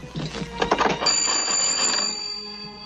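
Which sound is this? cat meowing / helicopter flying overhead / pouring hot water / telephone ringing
telephone ringing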